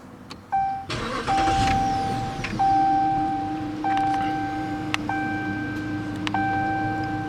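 A 2020 Dodge Charger 5.7 HEMI AWD, an ex-state trooper car with 134,000 miles, cranks and fires up with a loud burst, then settles into a steady idle while a dashboard chime repeats regularly, heard close from inside.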